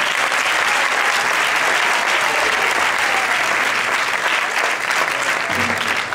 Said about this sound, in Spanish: quiero que suba Jorge Domínguez Santander, un fortísimo aplauso para él